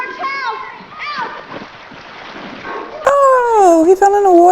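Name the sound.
splash of a boy falling into water, from a film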